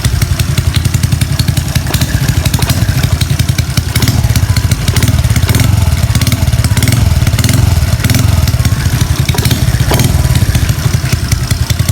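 A motorcycle with a loud AOM step-53 aftermarket exhaust idles steadily close by, a rough, rapid thumping that holds an even rhythm throughout.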